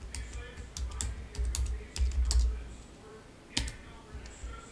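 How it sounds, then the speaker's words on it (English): Typing on a computer keyboard, bursts of quick close key clicks in an irregular rhythm with brief pauses between them. "from the IDE, we would type in Adafruit"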